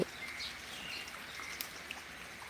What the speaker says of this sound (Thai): ฝนตกเย็นมากค่ะ